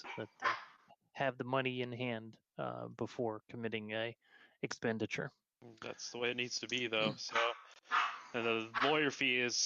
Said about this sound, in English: Sorry about my dogs here.